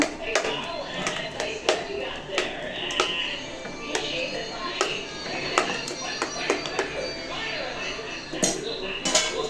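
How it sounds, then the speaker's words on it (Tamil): Chopped fruits being stirred together in a bowl with a spoon, giving steady soft clinks and taps of utensil against dish in a loose rhythm while a voice talks over them. "இப்போ இந்த ஃப்ரூட்ஸ் எல்லாத்தையுமே இதில் சேர்த்துக்கலாம். சேர்த்து நல்லா கலந்து விட்டுருங்க."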